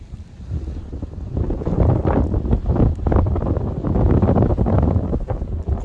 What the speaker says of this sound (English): Very windy, very stormy on today's sea glass hunt.